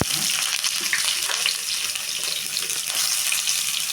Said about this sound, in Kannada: ಸಾಸಿವೆ ಜೀರಿಗೆ ಚಟಾಪಟ ಅಂದ ತಕ್ಷಣ ನಾನು ಈರುಳ್ಳಿ ಹಾಕ್ತೀನಿ